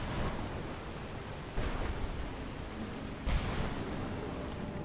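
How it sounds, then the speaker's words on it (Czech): Rain hisses steadily in the video game Skyrim, with summoned lightning crashing in as two sudden bursts of noise over the constant downpour, with no voices. "Jo, přivolal jsem blesky. Ano, začalo pršet,"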